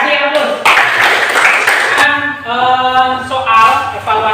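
A school class claps in brief applause at the teacher's request. The clapping is quick and scattered, and a spoken voice sits over it before the room settles.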